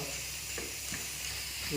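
Steady sizzling and frying of tomatoes sautéing in a pan, with faint soft scrapes of stirring, continuous and close.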